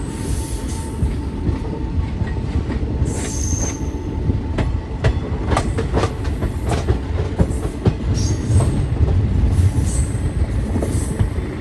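A train runs at high speed past a moving Bagh Express on the Kolkata to Nainital route. It gives a loud, continuous rumble with rapid clicking wheel beats and brief squeals, heard close up and with no voices.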